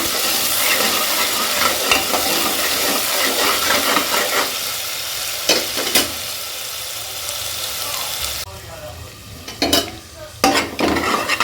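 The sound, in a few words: sautéing ground mint, green chilli, ginger and garlic paste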